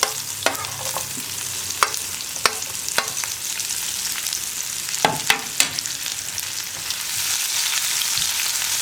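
Sliced onions fry in a pan for tomato chutney, a steady close sizzle broken by occasional sharp clicks and scrapes of stirring.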